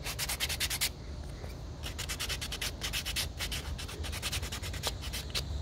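Sandpaper rubs over a small wooden snowman figure in quick, scratchy strokes, a close, quiet rasping that comes in short bursts with brief pauses between them, and no talking.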